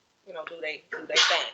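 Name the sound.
sneeze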